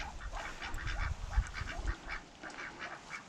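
A muddy backyard goose honks repeatedly amid a small poultry flock, with soft, fairly distant calls over low outdoor background noise.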